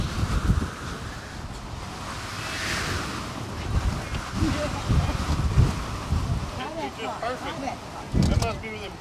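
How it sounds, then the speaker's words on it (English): Wind gusting at an outdoor high school baseball game, a steady rushing roar with stronger swells buffeting the microphone, while a commentator talks over it. "Times feels like the wind picks up a little bit."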